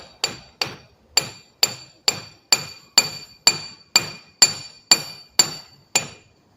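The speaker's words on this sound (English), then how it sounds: "I'm just going to do a little bit of gentle tapping using this hammer and this brass drift." Twelve evenly spaced metallic taps of a hammer on a brass drift during a front driveshaft CV joint repair on a 1997 Jeep Grand Cherokee ZJ, sharp and ringing, close up with nothing else heard.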